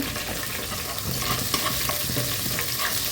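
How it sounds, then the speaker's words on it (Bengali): A bay leaf and a pinch of cumin frying in hot oil for a Bengali prawn curry tempering, a dense continuous sizzle with light stirring ticks throughout. "ফোড়নে দিয়ে দিচ্ছি একটা তেজপাতা, সামান্য একটু জিরে, ভাজি করে নেব"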